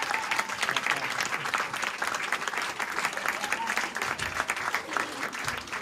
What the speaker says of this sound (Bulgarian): Силна аплодисмент.